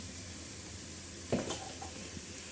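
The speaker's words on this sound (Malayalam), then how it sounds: "അതൊന്ന് മൂത്ത് വരട്ടെ" Turmeric powder frying with onions in a pan for crab masala, a steady close sizzle throughout with a brief stir or clatter midway.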